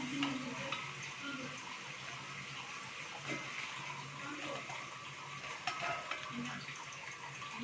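Golden-brown date fritters lifted out of hot frying oil, a steady bubbling hiss with light scraping and wet clinks of a slotted spoon against the pan throughout.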